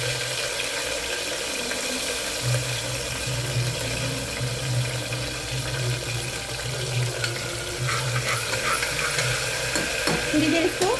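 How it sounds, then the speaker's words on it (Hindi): Ginger garlic paste fries with fenugreek seeds in a pan over a low flame, giving a steady close sizzle with some stirring and scraping toward the end. "अदरक लहसुन का पेस्ट हमने डाल के थोड़ा भून लिया था"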